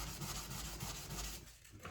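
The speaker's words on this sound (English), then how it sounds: "you can see that when I'm sanding" Steady, close rubbing and scratching strokes of sandpaper worked back and forth over a hard goalie mask, with no voices.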